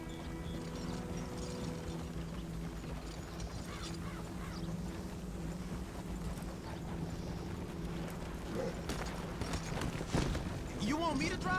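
Horse hooves galloping in Red Dead Redemption 2, a steady clip-clop rhythm running under continuous music and game ambience, with people talking over it throughout.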